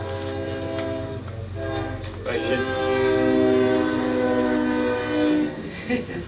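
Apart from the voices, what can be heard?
train passing by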